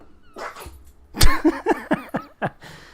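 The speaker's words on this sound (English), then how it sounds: "the sounds of a sneezing dog in the background" A dog sneezes and snorts several times in quick, sharp bursts close by, with softer snuffling before them.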